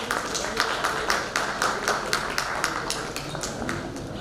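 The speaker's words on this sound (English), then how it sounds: "May I have a round of applause?" Sparse, rhythmic clapping from a small audience welcoming a speaker at a tax conference, about a dozen distinct claps at a steady pace in a room, moderately loud.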